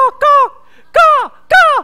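A human voice imitates a crow's caw, with four loud, close, nasal 'kaa' calls: a short clipped one followed by three longer drawn-out caws separated by brief pauses.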